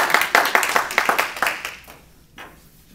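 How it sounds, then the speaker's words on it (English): A room of people at a city council meeting claps hands together, a short burst of distinct, fairly close claps that thins out and fades to quiet, with one late clap near the end. "Everybody claps their hands."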